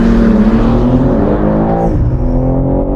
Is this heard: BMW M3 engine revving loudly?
yes